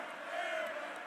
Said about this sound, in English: this Miami crowd is just all over Marcus Banks from one missed 3-point shot